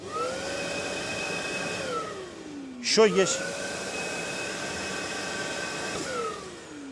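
A DeWALT DWV905M corded vacuum cleaner runs with a steady, loud motor drone and whine, its pitch shifting briefly near the start and end, while someone speaks a few words over it midway.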